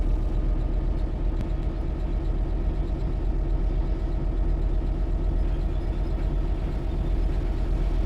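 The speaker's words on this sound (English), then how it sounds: "listen to that 66 rev up as it gets ready to go" Class 66 diesel locomotive in a train simulator, its engine droning steadily with a deep low rumble that holds throughout, close and moderately loud with no voices.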